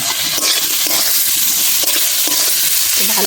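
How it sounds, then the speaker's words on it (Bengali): Prawns frying in oil with turmeric, a loud, continuous sizzle close by, broken by repeated scraping and clattering strokes of a spoon stirring the pan. "ভালো করে নেড়ে চেড়ে ভেজে নেব। এবার চিংড়ি মাছটা দিয়ে দেবো"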